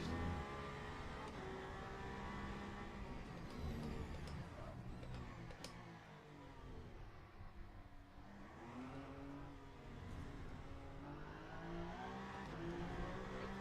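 A race car engine in the Le Mans Ultimate sim racing game drones and revs steadily throughout, rising and falling in pitch as it accelerates and shifts, fairly faint and with no talking over it.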